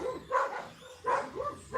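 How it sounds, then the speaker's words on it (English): Dogs bark at a country house near Medellín, Colombia, three moderately distant barks spaced about three-quarters of a second apart, slightly muffled. "the dogs are barking a lot"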